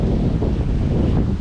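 Strong wind buffets a microphone outdoors near an old arched railway viaduct, a loud, continuous low roar and rumble that fills the whole moment with no voices.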